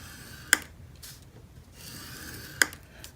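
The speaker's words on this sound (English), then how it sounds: "So put the 5-inch edge along the top of your scoreboard. Score it at 1/2 inch." Paper is scored on a scoreboard with a bone folder, two sharp snaps of the tool hitting the board between soft scraping strokes, close and quiet.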